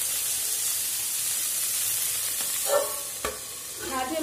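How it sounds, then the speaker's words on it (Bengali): Dheki shaag greens fry over low flame in a covered pan, a quiet, even sizzle and hiss, with a few clunks and stirring sounds near the end. "একটু ঢাকা দিয়ে দিয়ে আমি শাকটাকে ভেজে নেব।"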